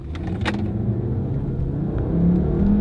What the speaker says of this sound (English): This thing takes off. You can feel it shifting very smoothly